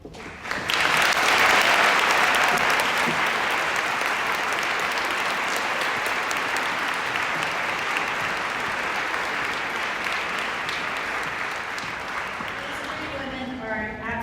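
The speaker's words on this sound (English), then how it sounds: "let's just give them one more round of applause" An audience applauds at a charity fundraiser event, a sustained burst of clapping that swells quickly, holds for many seconds and then gradually thins out.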